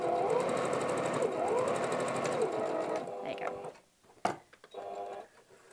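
A sewing machine stitches a wallet in a fast, steady mechanical whir that slows and stops, then a short burst resumes after a pause with a clack, with speech underneath.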